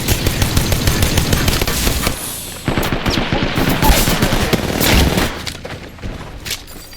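Rapid automatic gunfire crackles in dense bursts during a video game battle, loud and continuous at first, then sporadic single shots and explosions, with a brief lull partway through.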